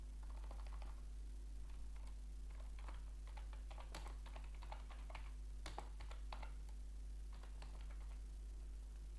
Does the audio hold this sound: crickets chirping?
no